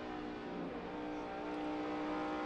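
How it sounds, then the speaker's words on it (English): NASCAR Sprint Cup stock cars roar past at Atlanta Motor Speedway during the Kobalt Tools 500, a loud, steady, full-throated engine drone holding for a couple of seconds without talk. "Jeff Gordon in that 24 car, he drives by his teammate"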